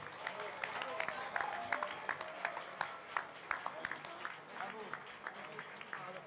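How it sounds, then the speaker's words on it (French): Steady applause from an audience at a dental ceramics olympiad award ceremony, a continuous wash of many hands clapping at moderate volume, with a few sharper claps standing out. "Allez, Philippe et Quentin qu'on applaudit"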